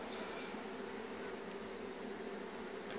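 Bees from a hive lodged inside a camper give off a continuous, steady, fairly quiet buzzing drone that holds evenly throughout with no voices.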